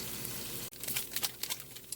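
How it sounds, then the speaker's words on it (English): Oxtail meat browns in a pot for Haitian-style oxtails, a soft crackling sizzle with scattered spits and pops, quiet and close, briefly interrupted by a short dip before the frying patter resumes. "You got to watch your pot when you're browning your meat."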